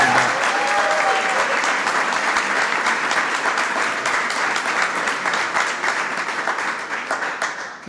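Sustained applause from a large audience at a Cinco de Mayo reception, welcoming Karen Pence, dense and steady throughout before tapering slightly toward the end.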